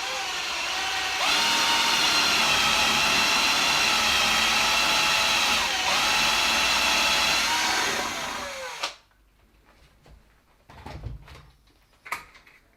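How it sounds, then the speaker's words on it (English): A power drill whines loudly and steadily for several seconds as it bores a small hole halfway into wood, then cuts off, leaving a few faint knocks and clicks. "So I've drilled a little hole there"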